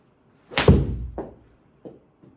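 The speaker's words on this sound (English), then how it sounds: "So what we'll actually do, we'll hit a couple full shots." A golf wedge strikes a full shot with a sharp, loud impact thud, followed by two fainter knocks in quick succession, outdoors on a practice range.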